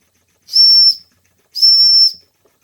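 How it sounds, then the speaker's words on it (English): The whistle on a Gaselan DM2 model steam engine from East Berlin sounds two loud, steady high-pitched blasts, each about half a second long with a breathy steam hiss, separated by a short silence. "Let's see if I can get anything out of the whistle."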